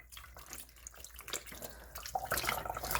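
Water is poured by hand into a bowl of grated yuca, a close, splashing trickle that swells and grows louder toward the end, with no talking.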